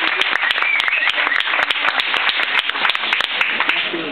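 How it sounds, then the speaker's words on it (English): Dense, continuous audience clapping at a live variety show greets a magician, crisp and steady throughout with no break. "so give him a round of applause."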